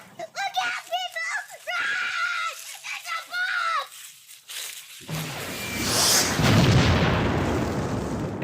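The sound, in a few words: bomb explosion in a home movie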